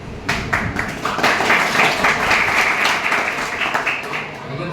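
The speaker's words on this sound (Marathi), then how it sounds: "जोरात टाळ्या वाजवा." An audience at a live talk claps loudly, a dense sustained wave of applause that holds steady for several seconds with scattered sharper claps in it.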